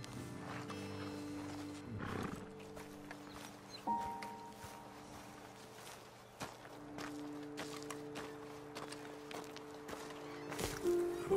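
Horses in Red Dead Redemption 2 shuffle and step on a ledge, with soft hoof footsteps, an occasional snort, and a steady ambient game music bed underneath.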